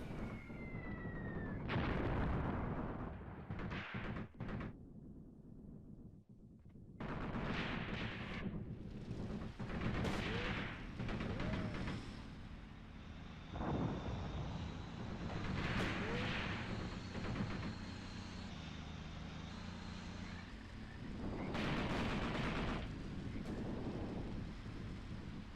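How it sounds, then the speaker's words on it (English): Explosions and gunfire roar through a battle in the war game Graviteam Tactics: Mius Front, an APC combat scenario. Heavy booms and rumbling blasts come in repeated waves over continuous battle noise, loud and dense. "And now we are actually being blown up."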